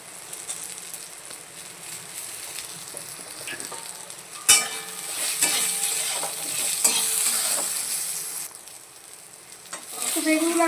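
Eggplant pieces frying in oil in a pan, a steady sizzle with stirring and a few sharp clanks of a spoon against the pan, close and alone.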